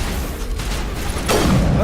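Sci-fi weapon fire in the video game Mass Effect: a loud, continuous wash of blasts and booms, with one sharper discharge near the end and no talk over it.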